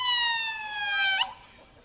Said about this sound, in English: we hear the flashing lights and the sirens signaling the end of the 2025 Christmas parade